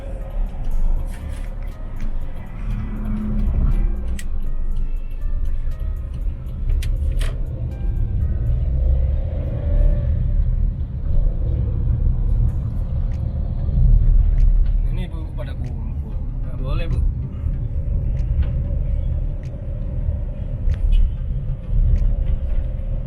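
Busy street traffic in Palembang, with cars and motorbikes passing in a steady, loud rumble of engines and tyres that runs the whole time under a person talking.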